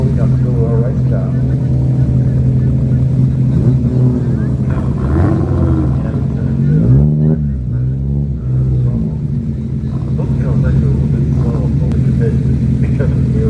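A home-built race car pulls away from the sprint start line at Leyburn, its engine rumbling and revving up close and loud. Voices talk over it throughout.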